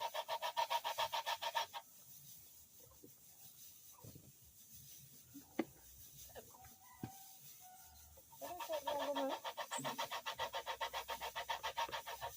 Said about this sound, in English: Let me grate on the coconut.